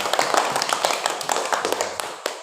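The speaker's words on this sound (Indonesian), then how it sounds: "Tepuk tangan kasih Najwa" A school class claps for a pupil, a scattered run of light, rapid hand claps from many children across the room, fairly soft, with some faint talk underneath.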